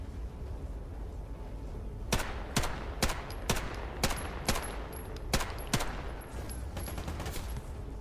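Gunfire in the Stalker GAMMA shooter game, with about ten sharp, loud shots in irregular bursts over a steady ambient background, some close together and others spaced out, and no talk.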